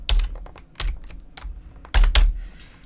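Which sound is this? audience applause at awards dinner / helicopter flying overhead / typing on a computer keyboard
typing on a computer keyboard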